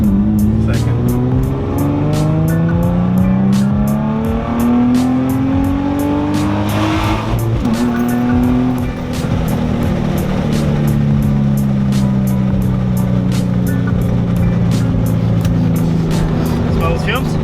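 Infiniti G35 with a newly installed Z1 transmission mount driving hard, engine note rising and falling through the gears with loud steady drive and road noise throughout, tire squeal hinted, and voices talking over it.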